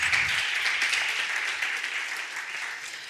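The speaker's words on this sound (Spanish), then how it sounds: "Podéis darles un aplauso" Audience applause at an education conference and debate panel in Madrid, a full burst of many people clapping that holds steady and then gradually tapers off.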